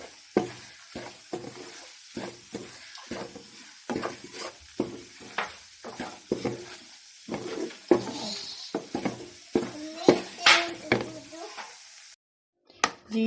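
Gram flour roasting in a pan while being stirred, giving a soft, rhythmic series of spatula scrapes and light sizzling, fairly quiet and close, ending in a brief gap.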